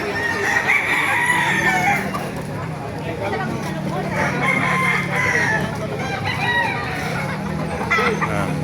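Gamefowl roosters crow and cluck at a busy chicken market in Baliuag, Bulacan, with repeated crows rising over a steady crowd din while people talk throughout.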